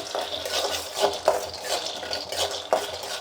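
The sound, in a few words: peanuts being roasted in a pan on the stove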